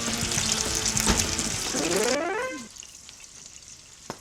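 Shrimp and garlic frying in oil for gambas: a loud, close sizzle with crackles, then a pouring or running-water sound with a rising pitch that stops abruptly, leaving near silence broken by a single knock.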